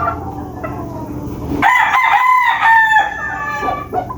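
A straight-combed rooster crows once, a loud, close, drawn-out call rising over a quiet outdoor background.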